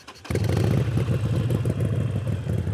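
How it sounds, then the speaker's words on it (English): A motorcycle starts up after a short quiet moment, its engine catching suddenly and settling into a close, loud, steady idle with a throbbing, clattery rumble. "So let's turn the bike on"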